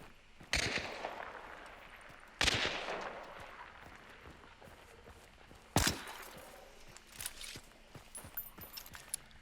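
Silent Sparks rifle firing in the first-person shooter Hunt: Showdown, three muffled, separate shots a couple of seconds apart, each followed by a short decaying tail, then softer scattered clicks and movement.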